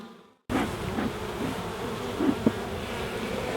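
Honeybees buzz in a steady, dense drone at a hive entrance where foragers return carrying orange and yellow pollen, the sound starting abruptly and holding close and continuous with a few brief louder passes.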